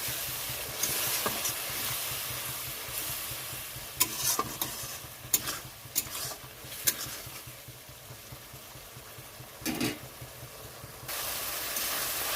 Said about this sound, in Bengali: এখানে আমি আরও একটু জল দিয়ে দিচ্ছি মশলার সঙ্গে মশলাটা ভালো মতো কষানোর জন্য